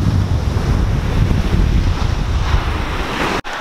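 Big waves crash and wind roars on a black sand beach in heavy rain, a loud, continuous wash of surf and wind buffeting the microphone, with one brief dropout near the end and no talking.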